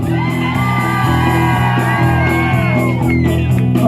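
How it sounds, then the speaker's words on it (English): A concert crowd at a guitar show screams and whoops on cue in one sustained burst of many voices, loud and close, with music under the roar. "I count to 3, you guys scream"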